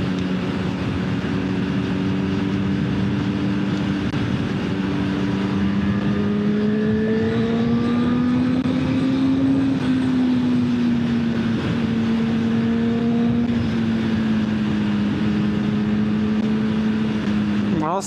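A 2025 Honda CB1000 Hornet SP motorcycle engine revs up with a rising, strongly tonal growl that climbs, holds high and eases slightly, loud and close and sustained, with no voices over it.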